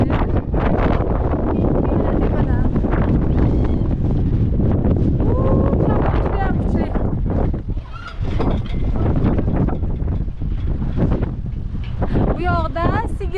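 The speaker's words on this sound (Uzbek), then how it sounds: "Shamol juda ham kuchli. Sizlar ham eshitib o'tirgan bo'lish kerak shamolning kuchligini." Strong wind blasting across an open cattle farm in Korea, a loud, continuous roar buffeting the microphone for the whole stretch, with a person's voice partly heard beneath it.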